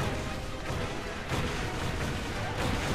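Missile explosions and combat blasts from the Skylanders Giants video game form a dense, continuous rumble of booms and crashes, loud and steady throughout with no clear pauses.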